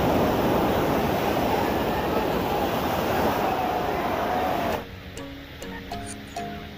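Sea waves wash in a loud, continuous rush at Pico De Loro beach in Nasugbu, Batangas, roaring close for several seconds before cutting to quieter tones.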